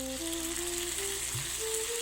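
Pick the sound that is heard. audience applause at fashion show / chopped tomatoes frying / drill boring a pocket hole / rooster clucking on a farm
chopped tomatoes frying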